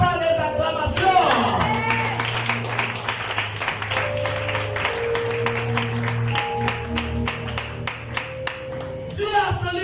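A church congregation claps steadily in rhythm, sharp repeated hand claps running through the whole stretch over sustained organ or keyboard tones and a murmuring crowd.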